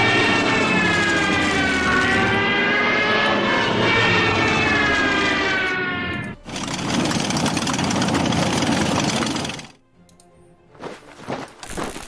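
Loud, droning aircraft engine in the Order of Battle: Blitzkrieg wargame, a steady propeller roar that ends abruptly, followed by a shorter burst of engine noise, then quiet with scattered faint sounds.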